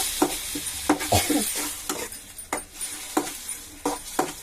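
Onion, green chilli and tomato fry in a pan with a soft sizzle under frequent sharp spatula scrapes and taps against the pan, spaced irregularly, close by and without speech.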